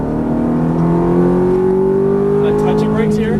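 A Ferrari F430 engine accelerates hard on a race track, its loud, close roar climbing steadily in pitch for the whole stretch.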